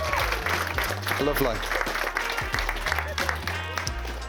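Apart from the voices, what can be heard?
wedding guests applauding the bridesmaids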